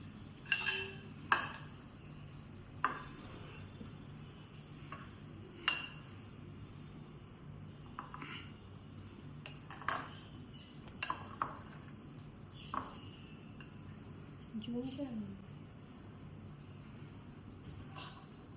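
Rice served onto a plate with mango chicken curry and mixed by hand or spoon, making scattered clinks and taps of utensil on plate, sparse and fairly quiet over a low steady background hum.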